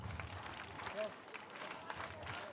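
Faint clapping rises from a crowd at a school ceremony honouring teachers, scattered and brief, mixed with background chatter.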